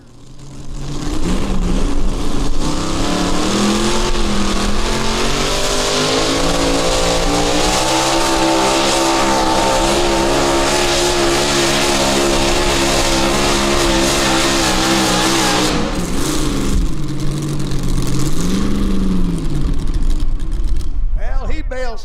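A truck-pull vehicle's engine revs hard and holds a loud, sustained roar with shifting pitch as it drags the sled down the track, then cuts off briefly near the end before roaring again, with an announcer talking over it.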